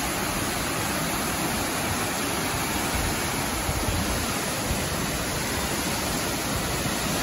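Bracebridge waterfalls in Muskoka, Ontario, a constant broadband roar of falling water, steady and close, with no voices.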